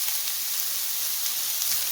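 Chopped onions frying in hot coconut oil in a pan, a dense, even, close sizzle throughout with no speech.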